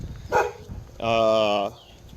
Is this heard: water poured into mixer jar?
no